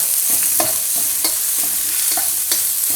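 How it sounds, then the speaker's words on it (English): A small onion frying in a pan for pork fried rice, giving a steady loud sizzle with light rhythmic stirring scrapes every half second or so, close and continuous. "Fry them up."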